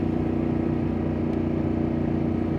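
A Ducati Panigale V2 S with a full titanium Termignoni race exhaust idles nearby, a loud, steady, throbbing low rumble with no voices.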